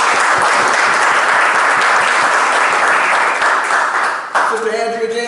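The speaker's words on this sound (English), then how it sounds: "Let's give them another round of applause." An audience applauds loudly and continuously at a gathering on healing Black families, a dense wash of clapping that cuts off near the end as a voice begins speaking.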